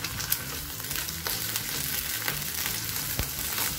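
Eggs seasoned with salt and pepper fry in hot oil in a pan, giving a continuous loud crackling sizzle with sharp pops throughout.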